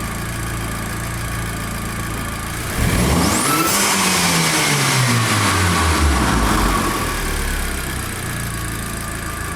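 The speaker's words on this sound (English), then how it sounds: "And if we give wide open throttle," A car engine is pushed to wide open throttle in a diagnostic workshop during air mass meter testing, rising from a steady idle into a loud, sustained rev that climbs and then falls back, with no talk over it.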